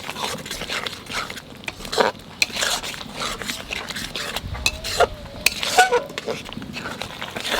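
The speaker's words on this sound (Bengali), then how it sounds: "গ্রেভিটা দেখুন খুব ভালো করে কষে নিতে হবে গ্রেভিটাকে।" Mutton gravy being stirred and fried in a pot, with a spoon scraping and clinking against the metal in uneven bursts over a soft background sizzle.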